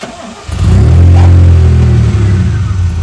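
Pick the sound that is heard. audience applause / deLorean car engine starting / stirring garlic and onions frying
deLorean car engine starting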